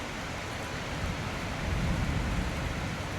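A heavy storm outside with lightning and thunder, heard as a loud, dense wash of pouring rain that swells midway with a low rumble, and no voices.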